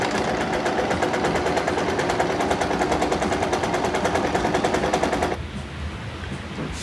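A sewing machine stitches quilt fabric strips in a rapid, even mechanical chatter for about five seconds, then stops abruptly, leaving quiet room noise.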